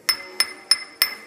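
A flawed stone is struck four times with a hammer in an even rhythm, each close, crisp tap giving a short, dull ring with a slightly hollow, wooden character.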